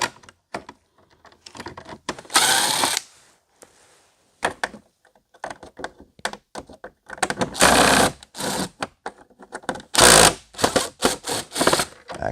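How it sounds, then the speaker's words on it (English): A screw gun backs screws out of the bezel on a GM towing mirror in short, whirring bursts of varying length separated by pauses and small clicks, close and loud. "get yourself a screwdriver, or in my case, my screw gun here, and just unscrew these here"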